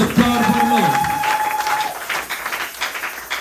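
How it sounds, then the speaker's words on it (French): A church congregation breaks into applause, and the clapping builds into a steady wash after a brief sustained vocal tone at the start. "Acclamons très fort le Seigneur."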